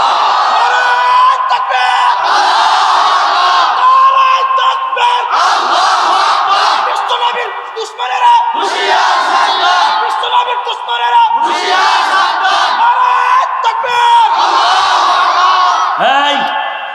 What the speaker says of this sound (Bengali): তাকবীর ধ্বনি দিয়ে দেখাই দাও